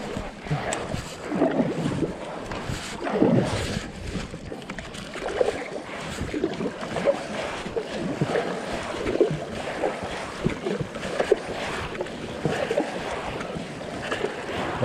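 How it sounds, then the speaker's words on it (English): A small boat is paddled across a mountain lake with some current, steady splashing strokes and water movement mixed with wind buffeting the microphone, no talking. "So paddling back across"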